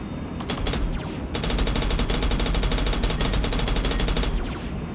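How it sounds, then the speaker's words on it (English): Rapid, sustained bursts of aircraft machine-gun fire in the flight combat game Frontiers Reach, loud and rattling with short pauses between volleys. "Boy, sure would be nice if our guns didn't overheat at the drop of a hat"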